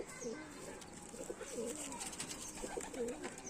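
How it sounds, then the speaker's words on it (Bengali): Chennai-breed pigeons, a male and a female, give several low, rolling coos in a repeated rhythm, close but fairly soft over a steady background hiss. "তো এটা হচ্ছে মাদা পায়রা, এটা নর পায়রা।"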